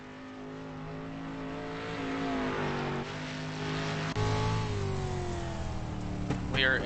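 Race car engine in a sim racing league video game, onboard: a loud, continuous whine rising through gears with repeated upshifts and climbing revs, steady and close.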